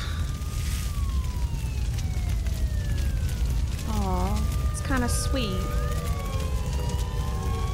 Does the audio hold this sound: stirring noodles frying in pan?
no